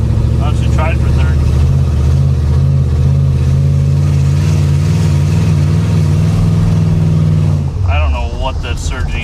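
An abandoned Pontiac, back on the road after 48 years, surges while driving: a loud, steady engine drone with a wavering pitch that drops away near the end, where a voice speaks over it.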